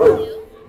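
A voice imitates a dog's bark during a children's sing-along game: one short, voiced woof that fades quickly.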